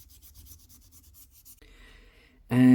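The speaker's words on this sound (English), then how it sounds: "Now I am going to sand just the middle part, so the glue has something to hold on to." The middle of a custom car badge is sanded in quick, even back-and-forth strokes, making a soft rhythmic scratching up close, before a sudden loud, steady tone cuts in at the end.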